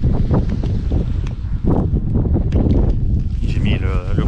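Steady wind rushes across the microphone of a cyclist riding on a cool day in a light breeze, a constant buffeting roar with someone talking over it throughout.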